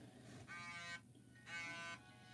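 An alarm clock set for seven o'clock goes off with two long buzzing electronic bursts, each about half a second, separated by a short pause, fairly loud and close with no talking.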